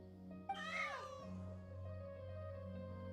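A cat in Genshin Impact lets out a single drawn-out meow that rises, then falls, heard clearly over a quiet, steady musical background.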